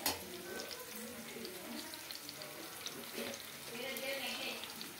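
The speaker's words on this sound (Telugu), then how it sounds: "ఈ ఆనియన్స్ బ్రౌన్ ఆనియన్స్ అయ్యే వరకు ఫ్రై చేసుకోవాలండి" Onions fry with a little salt in a pan for a handi chicken dish, giving a soft, steady sizzle with some stirring and water sounds, fairly quiet under occasional talk.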